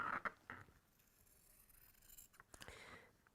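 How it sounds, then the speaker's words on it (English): Scissors cut around a fabric circle at a craft table, giving faint, close snips and scrapes in short irregular bursts with no voices. "So I am going to cut round this circle with scissors"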